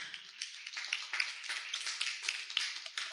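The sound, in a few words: audience applause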